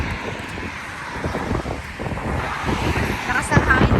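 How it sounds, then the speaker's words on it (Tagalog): Strong wind from passing vehicles on a bridge in the UAE roars steadily into the microphone, a broad rushing noise with traffic rumbling underneath. "Lakas ng hangin kasi sa mga sasakyan."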